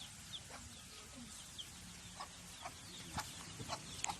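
Farm chickens clucking faintly and intermittently in the background, soft short calls scattered over a low ambient hum, a few brief clicks, no clear speech.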